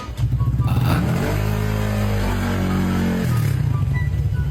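A motorcycle engine revs up loud and close, its pitch climbing and holding before dropping back to a rough, throbbing idle.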